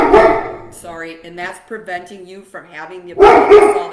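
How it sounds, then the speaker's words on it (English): A pet dog barks and yips in short bursts behind a person speaking indoors, the barks tucked between and under the steady talk. "I'm sorry, that's my dog"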